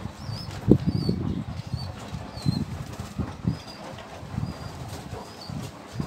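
Pigeons flap their wings in repeated short, fluttering bursts nearby, with faint cooing and bird calls between the flurries. No voices are heard.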